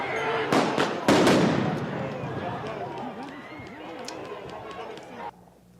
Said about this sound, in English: police cleared the streets using flashbangs and tear gas